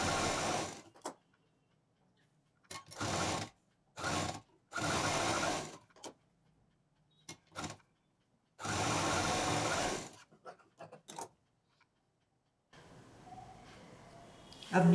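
A sewing machine stitches patchwork bag pieces in several separate bursts of fast whirring, each lasting one to two seconds and split by quiet pauses and handling noises, with a faint background hum near the end.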